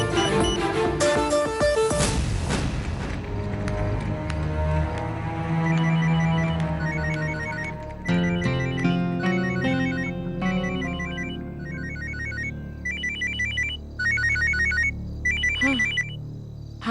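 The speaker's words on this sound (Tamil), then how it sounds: "மேகிக்கு ஃபோன் பண்ணி பார்க்கலாமா?" A telephone rings over a bed of TV-drama background music, a repeated electronic ringing pattern in short bursts, steady and fairly loud, with no voices.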